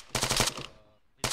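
Automatic gunfire in the Arma 3 co-op shooter, a loud close burst of rapid shots that fades out, then a second burst starts sharply.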